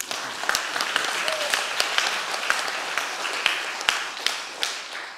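Church congregation applauding during a Sunday morning service on Children's Day, a steady wash of hand claps with scattered sharper individual claps standing out, moderately loud throughout.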